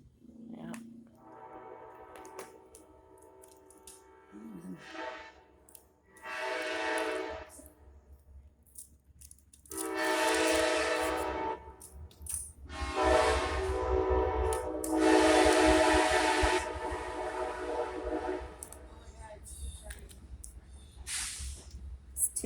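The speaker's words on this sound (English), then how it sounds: "It's 2 trains." Two trains pass right beside the tracks, with loud drawn-out horn blasts over heavy rumbling and hiss that build through the middle and stay close and strong; a few voices talk quietly at the start.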